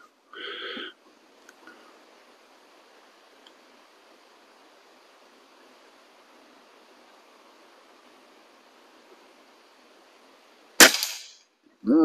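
A single sharp crack of a Feinwerkbau Sport air rifle shot while plinking, loud and abrupt, followed by a short trailing noise. Before it comes a brief tonal sound, and a faint steady hiss runs through the quiet stretch.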